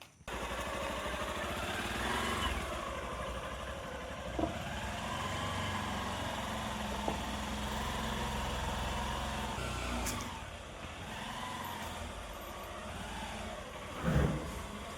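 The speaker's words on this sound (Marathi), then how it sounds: "मामांची गाडी आतमध्ये पार्क करायची इकडे आतमध्ये मामांच्या गाडीची पार्किंग आहे" A vehicle engine hums steadily nearby for a long stretch while parking, with a few clicks and a brief louder bump near the end.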